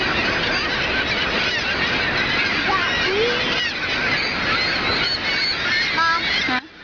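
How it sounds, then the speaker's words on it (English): Seabirds call constantly at a nesting colony at Cave of the Winds in April, a dense, loud chorus of honking and squealing cries from many birds, with no voices over it. "Look at all those birds."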